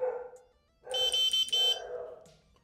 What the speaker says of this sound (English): The dog's not too happy with this situation